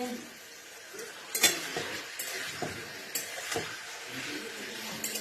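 Potatoes, cauliflower, papaya and peas cook in a pan with salt, dried chilli and ground cumin, a soft sizzle broken by occasional clinks and scrapes of a utensil against the pan.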